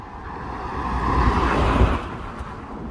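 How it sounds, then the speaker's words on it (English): A car rolls past on a road, its tyre and engine noise swelling to a peak in the middle and fading away again, fairly close. "there's a car coming"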